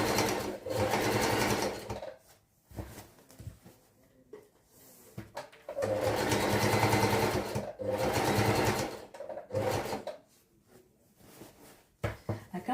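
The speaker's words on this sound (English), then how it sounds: "So I'll be stitching that all the way around," An electric sewing machine stitches fabric for baggy pants in several close bursts of rapid mechanical whirring, separated by short pauses and handling clicks.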